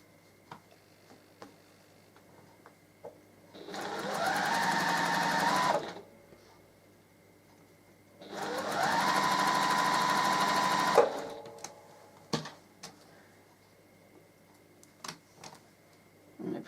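A sewing machine joins rows of a quilt block in two steady bursts of a couple of seconds each, with quiet clicks and handling taps between and after the runs.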